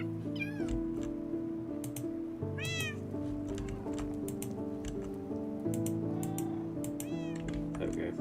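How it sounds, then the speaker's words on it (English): A newborn kitten in the game Minecraft gives repeated short meows at regular intervals over steady background music, with a voice talking now and then. "Oh, they made a kitten."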